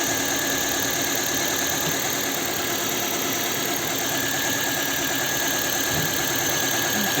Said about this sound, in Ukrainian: сам двигун працює рівно